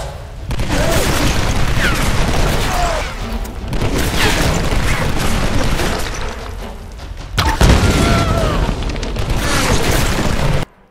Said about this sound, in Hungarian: Hát felrobbantam.